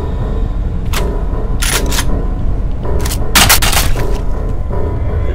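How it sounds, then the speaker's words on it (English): Multi rocket launcher firing in the shooter game F.E.A.R., sharp bursts of blasts standing out over a steady rumbling background, with a dense cluster of shots near the end. "Multi rocket launcher."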